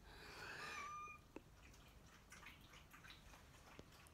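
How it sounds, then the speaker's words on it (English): A cat meows once, a drawn-out, wavering cry close by, followed by quiet room noise with a few faint clicks. "That was my cat."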